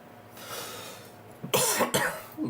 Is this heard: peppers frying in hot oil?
no